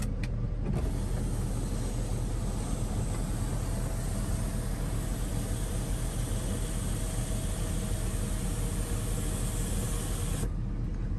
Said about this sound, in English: Power sliding rear window. By the red button, it works.